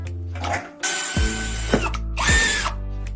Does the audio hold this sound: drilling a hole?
yes